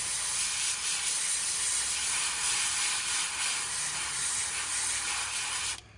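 A steady, hissing spray of an airbrush painting a fishing lure through a stencil at under 20 psi, held continuously at close range, cutting off abruptly near the end.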